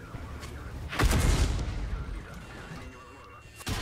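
Enemy artillery fire striking a KV-2 tank in the World of Tanks video game, a heavy booming impact with a rumbling tail, followed by a second sharp hit near the end.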